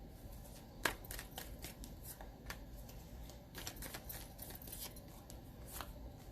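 Tarot cards being shuffled by hand, soft papery riffles and taps in quick irregular bursts with one sharper snap near the start, close and fairly quiet with no talking.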